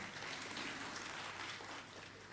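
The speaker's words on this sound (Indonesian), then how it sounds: "Tepuk tangan untuk beliau semua." Distant, faint applause from the audience at a broadcasting awards ceremony in Bali, a soft, even wash of clapping that thins slightly toward the end.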